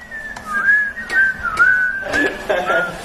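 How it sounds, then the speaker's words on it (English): A single person whistles close up, a wandering tuneless line with no clear melody, lasting a few seconds. "a bit of tuneless whistling"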